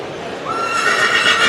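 A mare at a breeders' auction presentation lets out a loud, close neigh with a rising whinny that swells after the first half second. Faint hoof sounds sit underneath.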